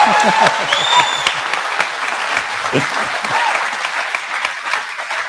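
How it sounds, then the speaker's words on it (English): An audience at an Oregon Republican gubernatorial debate applauds the candidates, a dense burst of clapping that starts loud and gradually thins out, with a few brief tonal squeaks early on. "now you can applaud all the candidates"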